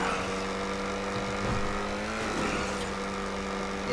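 An Ocelot XA-21 supercar in GTA 5 races through a huge stunt loop, its engine a steady, loud, continuous whine that rises and shifts in pitch throughout.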